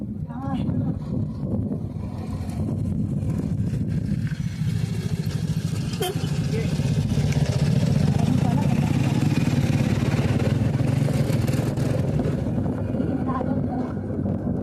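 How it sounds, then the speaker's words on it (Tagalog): A motorcycle engine hums and swells as it draws closer and passes, with steady wind rumble over the microphone throughout. "Hintay tayo dito kasi may motor."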